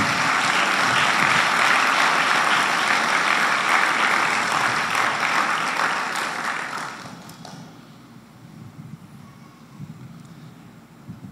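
A church congregation claps loudly and steadily for several seconds, then the applause fades away into quiet room noise.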